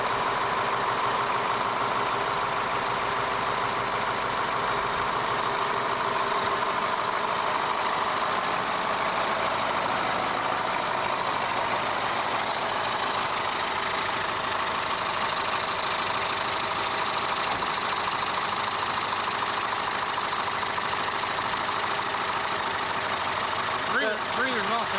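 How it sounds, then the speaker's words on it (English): A 1994-era fire truck's 8.2 diesel engine idles steadily and loudly up close, a dense continuous rumble with light knocking texture and an air compressor breathing nearby, with no clear speech over it. "diesel engine."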